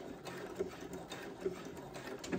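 A Brother sewing machine back stitching a McCall's pattern L9501 garment, a steady quiet mechanical whir with faint periodic clicks and a soft voice underneath.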